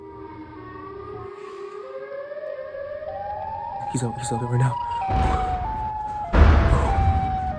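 A slow, rising Siren Head monster siren wail in a video game climbs in stepped pitch, with someone speaking briefly and sudden loud bursts of noise near the end.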